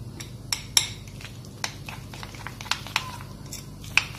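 Starch and oil cream being mixed in a bowl, with a spoon or whisk scraping and clinking against the sides in irregular, close taps and brief strokes.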